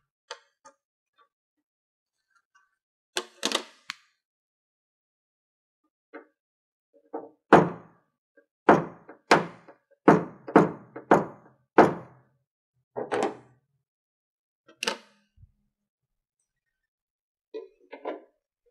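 Sharp, irregular metallic taps from a PDR tool knocking down a dent in a car body panel, single hits and quick clusters spread across a quiet background.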